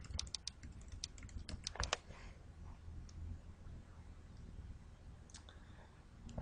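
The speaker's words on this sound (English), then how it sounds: "I'm going to type food source, search box at the top." Quiet computer keyboard typing of a search, with a quick cluster of close key clicks at the start, then sparse scattered taps over a faint background hum.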